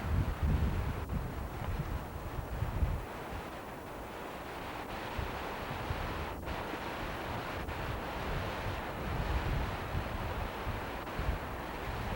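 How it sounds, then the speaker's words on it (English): Steady rushing wind buffets the microphone beside the Waccamaw River, with a constant low roar of moving water and air and no voices. "And there's the river."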